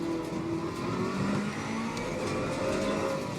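A Ferrari 488 Evo GT3 race car in the Assetto Corsa Competizione racing game drones steadily at high revs, its engine pitch rising and dipping as it accelerates and shifts, with no voices.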